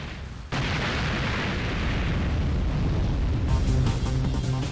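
A deep, roaring bomb blast from the shooter game BattleTraverse erupts after a brief quieter moment and rumbles on continuously, loud and broad, with game music tones creeping in near the end.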